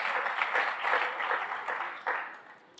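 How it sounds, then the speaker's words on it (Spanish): A church congregation applauds during a sermon, a broad wash of clapping that swells and dips, with a fresh burst near the end, moderately close. "¿Cuántos le dan un aplauso al Señor?"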